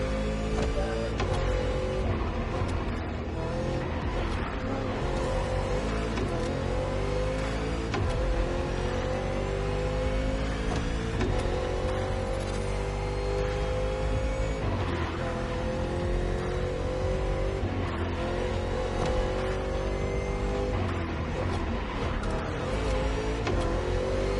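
A vehicle driving in the video game Warzone gives a steady, continuous engine drone with a rising and falling pitch that loops, held at a constant level throughout without pauses.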